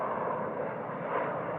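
An airplane landing on runway 25 right at Phoenix gives a steady, loud, broadband roar that holds evenly throughout, with no voices.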